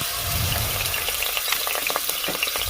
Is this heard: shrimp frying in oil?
yes